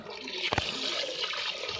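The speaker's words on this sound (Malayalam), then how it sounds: "ഈ വെള്ളം ഞാൻ നിറച്ചുകൊണ്ടിരിക്കുകയാണ്" Water runs and splashes steadily into a fish tank, close and fairly soft, with a brief gurgling burst partway through.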